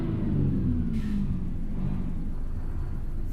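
A low, steady engine rumble with a deep droning tone, continuous and fairly loud, from a heavy truck slowing under engine braking in a trucking video game; no voices.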